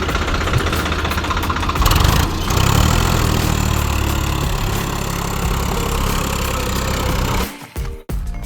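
A Swaraj 855 FE tractor engine runs close by with a continuous, knocking rumble that holds steady, then dips and briefly cuts out near the end.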